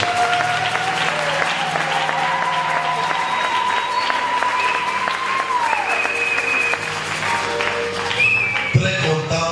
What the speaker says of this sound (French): Est-ce qu'on peut acclamer pour l'avoir dit?